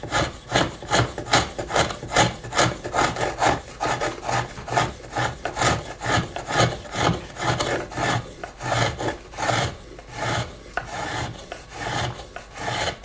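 A small wooden moulding plane cuts a bead into wood in steady, rhythmic rasping strokes, about two per second, close and clear with no talk.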